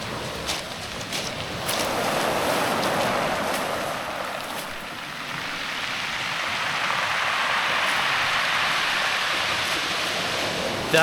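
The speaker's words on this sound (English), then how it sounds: "The waves going back into the ocean and all the little pebbles rolling across each other." Waves washing back down a pebble beach on Vancouver Island, dragging the stones so they rattle and roll over one another in a steady, close hiss that swells and eases without pause.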